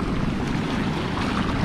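A boat passes on a river near the sea at Kei Mouth, South Africa: a steady, fairly loud wash of engine rumble and churning water, with wind buffeting the microphone and no voices.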